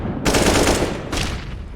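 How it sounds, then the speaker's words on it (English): AK-47 automatic fire in a competitive online shooter match, two dense broadband bursts in quick succession, loud and close with no talk over them. "But Pashanage has picked up an AK-47"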